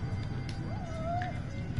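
A single cat meow rises and trails off in the Judgment video game, clear over a low background hum and ambient game sound.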